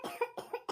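Three separate coughs from a person, evenly spaced and fairly loud, each a short rough burst with nothing else in between.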